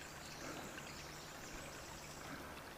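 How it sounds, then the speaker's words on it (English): Faint, steady rush of heavy rainwater running off in a canyon after downpours, a continuous distant trickling wash with no voices. "There's a lot of water running off."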